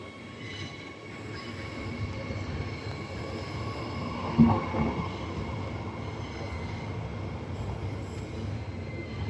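A freight train rumbles steadily through Brisbane's central station, with a low continuous roar, metallic wheel squeal and a brief louder clank midway.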